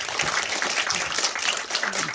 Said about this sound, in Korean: 선배님에게 박수 부탁드리겠습니다